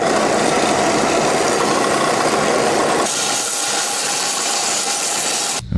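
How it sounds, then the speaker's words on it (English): A belt sander roughs up the angled end of a plastic pipe cut at 45 degrees, giving a loud, steady abrasive whir that eases partway through and cuts off with a thump at the end. "now I'll rough this part up on a belt sander"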